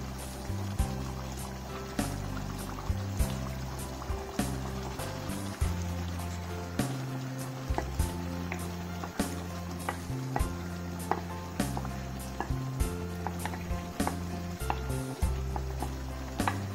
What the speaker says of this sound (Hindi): तो अब इसमें हम डालेंगे माश की दाल जो हमने पहले बॉईल करके रखी थी।